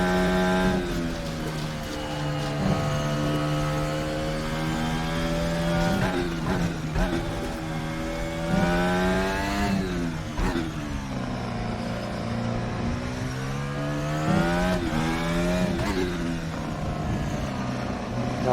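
A Formula X-22 open-wheel race car engine in RaceRoom Racing Experience at Spa Francorchamps, screaming loud and close, revs rising and falling through gear shifts and corners without pause.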